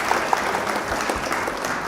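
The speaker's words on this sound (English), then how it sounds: "Round of applause for you, dude." A short burst of applause with clapping hands, steady and fairly close, lasting just under two seconds during a live card game stream.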